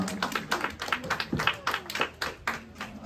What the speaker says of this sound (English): A round of applause for the Tweetsie Cowboys, Cowgirls, and Super Bobs.